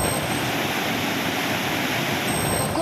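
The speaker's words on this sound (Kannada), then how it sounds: "ಗೋಕಾಕ್ ತಾಲೂಕಿನ ಗೊಡಚಿನ ಮಲ್ಕಿ ಬಳಿ ಜಲಪಾತ ರೌದ್ರಾವತಾರ ತಾಳಿದೆ" A waterfall in flood near Godachina Malki in Gokak taluk roars loud and steady, a dense unbroken rush of water that fills the whole stretch with no voices.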